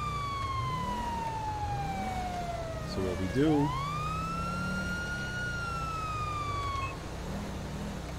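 A police siren in GTA V with the LSPDFR mod wails and sweeps, then switches to a rapid yelp before a long rising tone, with someone talking over it.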